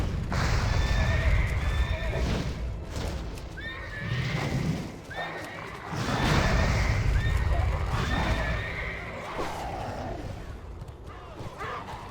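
Horses whinny repeatedly over galloping hoofbeats and a noisy, busy background in World of Warcraft gameplay, with a voice talking at times.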